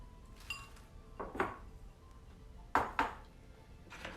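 A knife cutting something in half into a wedge in a home kitchen, with several sharp clinks and taps of a blade on a board spaced irregularly over a quiet background.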